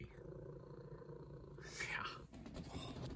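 A cat purrs close by in a quiet indoor home office, a soft, steady, continuous rumble with a brief rustle partway through.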